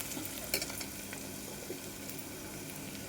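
A paste of ginger, garlic and coconut stirred into a rajma curry, with a steady close sizzle and scattered scraping clinks of the spoon against the pan throughout.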